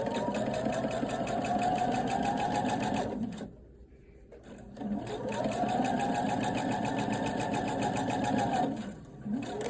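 A sewing machine runs a stitch right along the edge of a fabric bonnet to close the opening, a close, steady rapid hum in two long runs separated by a brief pause.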